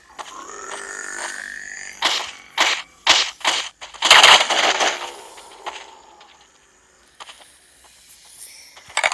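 A rapid series of sharp pistol shots in the video game Pixel Zombies Hunter cracks out in quick succession, close and punchy, with quieter game sounds before and after.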